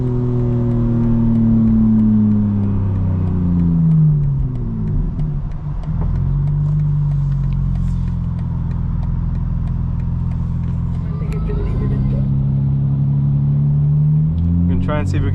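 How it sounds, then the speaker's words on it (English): A 2025 BMW M4 CS running with its exhaust valves closed, giving a smooth, steady engine drone that rises and falls in pitch with no burble or pops, with a person talking over it. "if I hit the exhaust button now, there's no burble whatsoever."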